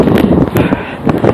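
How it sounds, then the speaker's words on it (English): Gusty wind buffets a microphone outdoors, a loud, rumbling low roar that swells and dips in uneven bursts over a short stretch. "Whoop, windy, hold on."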